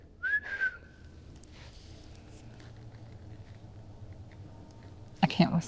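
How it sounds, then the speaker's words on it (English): A person gives a short, clear whistle up high in the cold, a single rising note lasting under a second near the start, followed by quiet background hiss and a brief burst of noise at the end. "Does anybody whistle up here?"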